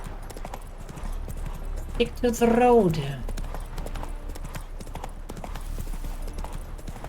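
Horse hooves clip-clop steadily on a road in The Witcher 3 in the city of Novigrad, a continuous rhythmic gait under game dialogue, with a brief whinny-like voice sounding partway through.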